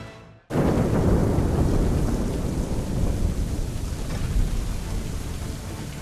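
Heavy rain and rolling thunder of a storm at sea in Assassin's Creed 3 burst in suddenly after a brief hush, then roar on loud and dense with no letup.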